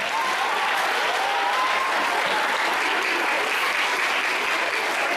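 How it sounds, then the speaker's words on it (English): Sustained, even applause from a school literary-festival audience, dense and steady for the whole stretch with no voices over it. "Give a round of applause for him."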